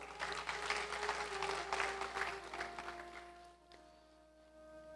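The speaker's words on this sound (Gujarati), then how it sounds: "ભંડારી સ્વામીને એકવાર તાળીઓથી વધાવો." Audience applause at a Swaminarayan religious sabha during a Bhagwat Katha in New Jersey: a crowd claps steadily for a few seconds, then the clapping fades to quiet room tone.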